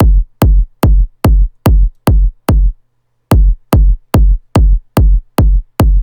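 A punchy kick drum hits in a steady four-on-the-floor pattern, loud and close, with each thump sharp and dry; a brief gap near the middle interrupts the run.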